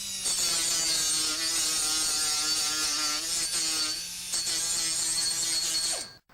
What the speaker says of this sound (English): I like to take that off with just a sanding disc.